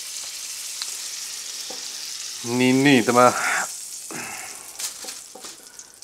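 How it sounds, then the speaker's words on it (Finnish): Thick moose steaks sizzle in a frying pan with a steady hiss, joined by a brief scrape or stir partway through while someone speaks Finnish nearby. "tää onkin paksu pala, tätä pitää paistaa vähän pitempään"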